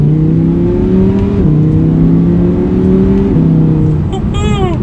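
A 2020 Audi R8 V10 Coupe accelerates hard, its engine note rising steadily and dropping back at quick gearshifts, then a high whining sweep near the end, loud and close throughout.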